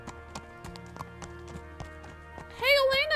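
Horse hooves in the Kingdom Come Deliverance video game clop in a steady, close rhythm for a few seconds, then a brief, louder high vocal sound cuts in at the end.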